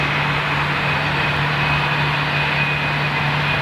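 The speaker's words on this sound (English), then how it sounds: "So it's not Emiri, it's the Qatar executive flight." A Qatar executive Boeing 747 runs its engines with a loud, constant low hum and steady broadband roar, close by and unbroken.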